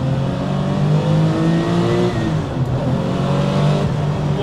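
A powerful Gunther Werks Porsche 993 911 restomod engine with a remap and exhaust change hums loudly and steadily near the microphone, its deep tone rising and falling slightly as it revs.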